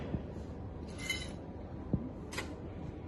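Ice cubes clinking against a martini glass as it is chilled for a classic daiquiri, a few sparse, faint glassy clinks and taps over a quiet room hum.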